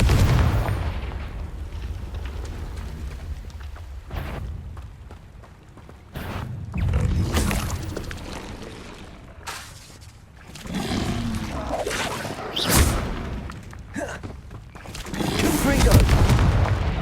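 Confringo blasting spells in Hogwarts Legacy fire off as a series of booming explosions, several loud blasts and rumbling impacts spread across the clip over a busy game soundscape.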